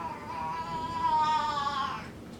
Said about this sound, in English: That's my cat. She's carrying around her string.